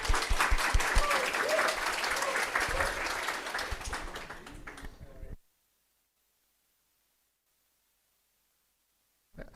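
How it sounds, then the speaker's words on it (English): An audience at a Flutter developer conference applauds to welcome a presenter, dense clapping lasting about five seconds before cutting to near silence, with faint talk mixed in. "Please give him a big round of applause to welcome him"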